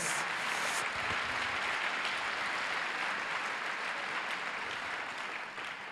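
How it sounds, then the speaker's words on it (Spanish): A church congregation gives a strong round of applause, many hands clapping in a continuous, even roar that stays full for several seconds before easing slightly at the close. "vamos a dar un fuerte aplauso por el Facebook de Dios"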